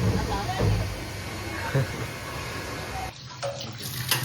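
Water runs steadily from a pipe with a broad hiss under voices talking, then briefly drops lower before resuming.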